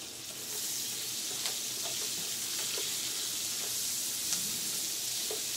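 Bacon and onions frying in a pan give a steady, close sizzle, with light scraping taps as they are stirred around, and no one speaks.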